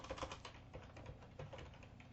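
Quick, faint clatter of keys on a computer keyboard as a plugin name goes into a QGIS search box, a short burst of close, irregular taps with no talk.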